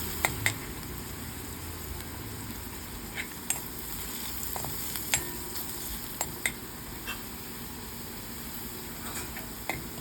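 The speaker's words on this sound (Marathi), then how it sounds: "तिखट घातल्यानंतर जरा कांदा परतून घेतला" Onion with red chili powder sautéing in a pan gives a steady, soft frying hiss throughout, dotted with occasional light ticks and clicks of a utensil.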